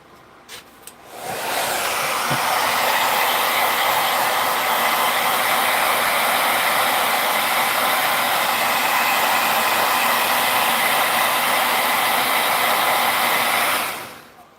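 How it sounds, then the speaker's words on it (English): A blow dryer whirs on with a steady, loud, even rush of air, drying a knife-making workpiece in a bladesmithing shop, running continuously for about twelve seconds before switching off. "I should hit it with the blow dryer."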